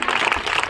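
Children at a school result announcement clap in a short, busy burst of many small hands, moderately loud and close.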